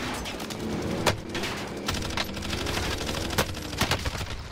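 Sniper rifle gunfire in a Call of Duty-style shooter match, the Pellington sniper, with repeated sharp shots cracking over steady game noise at a fairly even, rapid rhythm.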